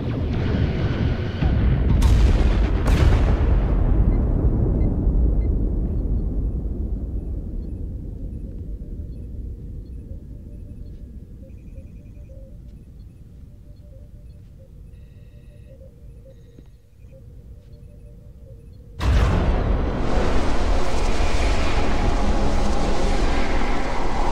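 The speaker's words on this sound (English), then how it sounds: "Targeting their life support systems. Commencing fire." Starship weapons firing during a space battle in the Star Trek Resurgence game, with a couple of loud blasts that trail into a long fading rumble, then an abrupt loud roar near the end.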